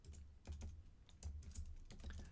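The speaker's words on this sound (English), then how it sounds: "we do that by typing def for define" Python code being typed on a computer keyboard: steady bursts of close, crisp key clicks with short pauses between groups, fairly quiet, no talking.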